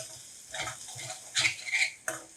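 Stuffing masala for bharli dhobli mirchi being sautéed in a pan, a spoon scraping and knocking against the metal in uneven strokes over a faint sizzle, close up.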